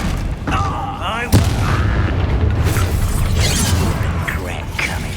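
Hogwarts Legacy combat with a Bombarda blast spell and a sharp booming hit amid clattering spell effects and game noise, with a voice talking over it.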